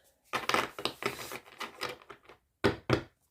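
A deck of oracle cards being shuffled by hand, giving several quick papery riffling bursts with short pauses between them, close and fairly quiet with no talking.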